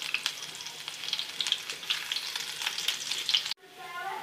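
Garlic and onion fry steadily in hot oil for a lentil tadka, giving a dense, close crackling sizzle that cuts off abruptly near the end, leaving a softer, quieter sizzle.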